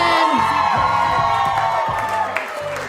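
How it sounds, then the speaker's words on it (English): Wedding guests cheer, whoop and holler for the newlywed couple, a loud crowd burst that fades slightly toward the end. "let's have one more cheer for our newlywed couple"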